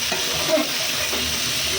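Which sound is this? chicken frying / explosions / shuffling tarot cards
chicken frying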